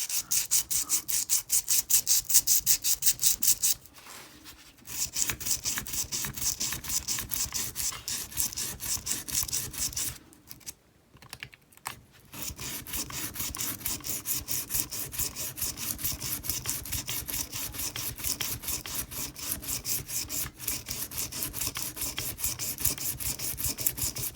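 An old Ranger is worked over with thickened sandpaper in steady, fast rasping strokes that run almost continuously, loud and close, with a couple of brief pauses.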